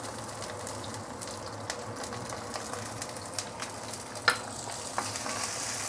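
Dried chili, ginger and garlic frying in hot oil for Kung Pao chicken, a quiet continuous sizzle with a few sharp crackles and pops, close, no speech.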